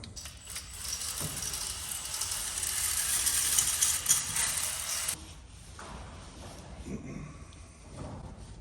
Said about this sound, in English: I hit the cylinder with the hone